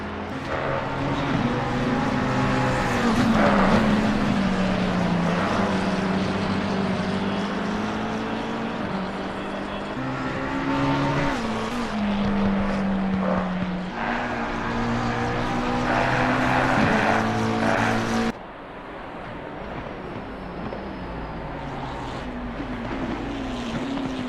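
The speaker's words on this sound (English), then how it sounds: "This McLaren here is struggling for grip" A McLaren race car struggling for grip on a Barcelona circuit drives past with a loud, high-revving engine whine that rises and falls through gear changes, then cuts off abruptly and leaves a lower, more distant engine drone.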